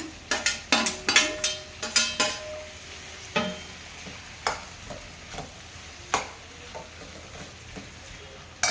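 Prawns with tomato cook in a pan, a low steady sizzle running beneath a series of sharp utensil scrapes and clacks, rapid at first and then spaced out, close and fairly loud with no talking.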